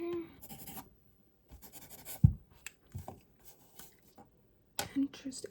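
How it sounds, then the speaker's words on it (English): A pen scratches across paper in a quiet medical-exam roleplay setting, several short close bursts of writing separated by pauses, with soft speech and a sharp tap partway through. "let me write that down"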